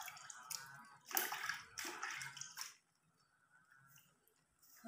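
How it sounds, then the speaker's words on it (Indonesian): Dayak onions are rinsed and swished by hand in water, with splashing and squishing bursts in the first half and quieter trickling afterward, all close and fairly soft, with no talk. "Setelah itu kita cuci juga bawang dayaknya."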